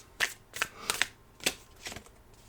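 Wild Soul Oracle cards are shuffled by hand in a handful of quick, crisp riffling bursts, close and clear, with brief gaps between them.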